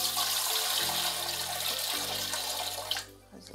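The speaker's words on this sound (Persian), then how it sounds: "آب میریزیم اونجا." Water from a tap runs steadily into two kilograms of flour for yogurt bread dough, a continuous close splashing stream with a low hum underneath that tapers off near the end.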